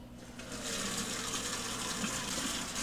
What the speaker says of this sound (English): Fill it with warm water, not hot.